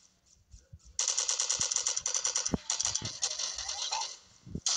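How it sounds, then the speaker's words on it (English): Rapid automatic gunfire rattles in bursts in the shooter game Milk Choco, with a steady stream of shots from about one second onward and a few heavier thumps mixed in. "Stop shooting me."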